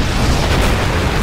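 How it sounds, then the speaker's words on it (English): A particle cannon blast in the Command and Conquer Generals video game, heard as a loud, sustained roaring boom that fills the whole stretch without a break and with no speech over it. "Warning. Particle cannon activated."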